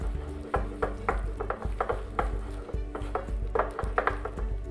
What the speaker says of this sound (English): And I'm gonna get some sugar. And then I'm gonna mix that right in there, so it's fully combined.